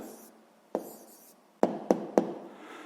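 Pen strokes on paper while writing out an answer to a sixth-grade math exercise by hand: a few short, sharp taps and scratches, close and quiet, with no talk.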